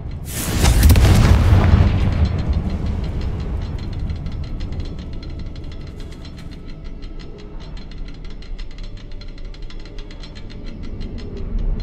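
A Confringo spell explosion in Hogwarts Legacy, set in an abandoned mine, hits as a loud booming blast in the first two seconds, then trails off into a long rumbling, crackling debris tail.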